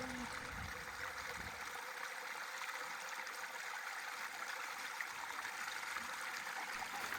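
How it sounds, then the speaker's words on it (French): A small stream trickles through greenery toward a pond, a faint, continuous wash of flowing water with no other clear sounds. "Un ruisseau discret cascade et murmure au cœur de la verdure."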